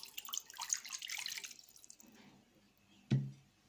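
Water pours for bread dough, a faint trickling splash over the first couple of seconds, then a single brief drip or clink near the end, quiet and close.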